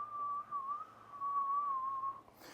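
A person whistles one sustained, gently wavering note close to the mic for about two seconds, then it breaks off into a brief airy burst.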